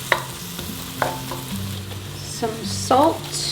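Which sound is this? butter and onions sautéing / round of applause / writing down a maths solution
butter and onions sautéing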